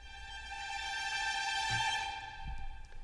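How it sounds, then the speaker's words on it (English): Orchestral string trills from the Albion 2 sample library, a bright fluttering sustained texture holding steady pitch layers at moderate loudness, with a soft low thump near the end and no talking. "and then we're using Albion 2 for the trills."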